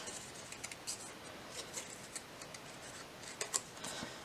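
Scissors snip through watercolor paper to cut out small painted roses, giving soft, close, irregular clicks and rustles that are fairly quiet and spaced out, with no talking.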